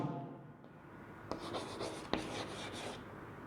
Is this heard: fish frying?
no